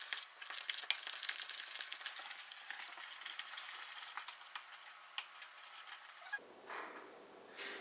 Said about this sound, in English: Now you mix it.